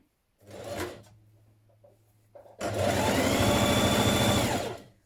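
A sewing machine stitches along a dress sleeve toward the cuff, with a short burst of whirring first, a low hum, then a long steady run of fast stitching at close range.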